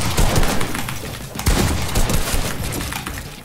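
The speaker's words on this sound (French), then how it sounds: "Mais je loupe toutes mes balles de pompe là." Rapid pump shotgun blasts from Fortnite gameplay, sharp repeated bursts in quick succession over busy game background noise, with no speech.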